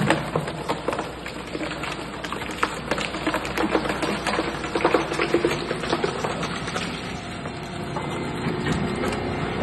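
A Zuick Z2S-400 industrial shredder tears through a complete car bumper, a loud, dense stream of crunching, cracking and grinding plastic that keeps up without pause and with no talk over it.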